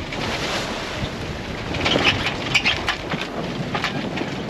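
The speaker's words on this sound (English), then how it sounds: "Be out of the big gust in just a second." Strong wind gusts roar across a sailboat out at sea in a rough bay, a loud continuous buffeting with rushing surges and faint clatter and water sounds.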